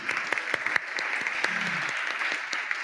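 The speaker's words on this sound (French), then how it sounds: "Je propose qu'on applaudisse Chloé Friedlander et Pierre-Emmanuel Ruiz." Conference audience applauding after a presentation, a steady mass of clapping with sharper individual claps standing out, and a brief murmur of voices beneath.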